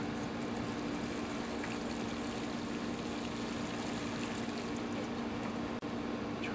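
Water pours steadily around the roots of a freshly planted tomato, a continuous hissing wash under a constant low hum, with one brief knock near the end.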